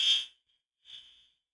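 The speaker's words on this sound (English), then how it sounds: "I have a fire alarm going here" A fire alarm sounds indoors in two short, shrill electronic beeps separated by a brief gap, moderately loud and heard alone with no talking.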